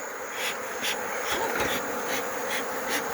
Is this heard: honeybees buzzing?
yes